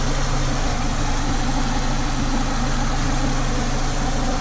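A car engine idles steadily in park with the air conditioning off, after work on a bad oil leak and a new distributor housing; a low, even rumble with constant hum runs throughout, close and alone.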